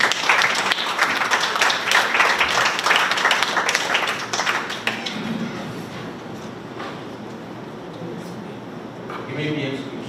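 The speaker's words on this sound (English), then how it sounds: "Ladies and gentlemen, let's give both team a big round of applause." Audience applause after a school debate, a loud dense burst of many hands clapping for about five seconds that then fades into quieter room murmur and voices.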